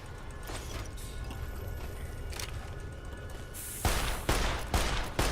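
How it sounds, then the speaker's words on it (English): An automated turret opens fire in modded Fallout New Vegas, Old World Blues, against low game ambience. Sharp, rapid bursts of gunfire come in the final second and a half, with no talking. "There's some sort of turret here."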